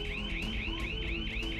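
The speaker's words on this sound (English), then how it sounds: "The alarm goes off." A wireless SimpliSafe home security alarm sounds after glass is broken in a break-in, a loud continuous electronic siren sweeping up and down in a steady repeating wail.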